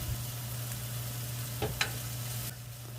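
Onion, chili and ginger stir-fry in a pan with garlic, giving a steady, moderate sizzle over a low hum, with a couple of brief clinks from stirring.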